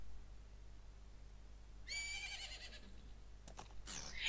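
A horse whinnies once in The Legend of Zelda: Majora's Mask, a high, quavering neigh that trails off, faint against a quiet low hum, with a softer snort shortly after.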